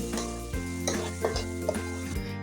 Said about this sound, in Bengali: এখন আমি মশলাগুলো ভালোভাবে কষিয়ে নেব